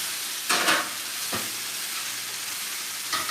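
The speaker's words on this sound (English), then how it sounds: "now we're stirring up the veggies" Vegetables sizzling in a small multi-size pan, a steady frying hiss broken by a few sharp scraping stirs, close and clear with no talking.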